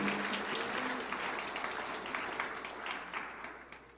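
Congregation applauding at a church's 50th anniversary and ordination thanksgiving service in Taebaek, a steady wash of many hands clapping that holds through the whole stretch and thins slightly at the end.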